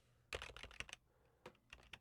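Quick bursts of close computer keyboard key presses, a rapid cluster of clicks followed by a few scattered taps, quiet and alone.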